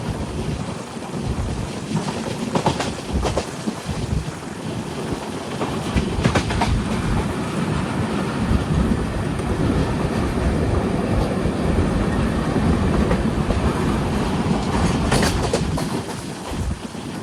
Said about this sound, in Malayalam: ട്രെയിൻ ഇപ്പോൾ സെനാപുര എന്നൊരു സ്റ്റേഷനിലെത്തിയിരിക്കുകയാണ്.